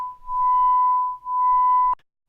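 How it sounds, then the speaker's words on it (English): Two pure sine tones near 1000.5 Hz beating at 1 Hz produce a steady electronic hum that swells and dips twice, pulsing on and off about once per second before cutting out abruptly. "If I change the beat frequency to say 1 Hz, now it's turning on and off at a frequency of 1 Hz"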